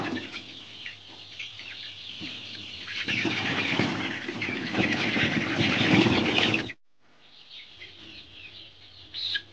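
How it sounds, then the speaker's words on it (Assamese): A golden chicken held in someone's hands clucks and squawks nearby, with wing flaps and rustling building to a loud burst, then a brief silence before quieter fowl sounds return. "এইটো মই ধৰিলোঁ এটা সোণালী মুৰ্গীটো"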